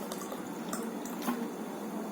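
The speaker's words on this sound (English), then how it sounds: "For the suspension, I'm going to take some amount of water" Water from a tap running and splashing into a container, mixed with a little sand to make a suspension for a science demonstration, a steady close liquid stream with light drips throughout.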